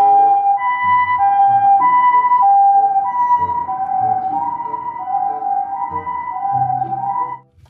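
A toy ambulance siren plays a loud, close, two-tone electronic wail that alternates steadily for several seconds before cutting off; no talking.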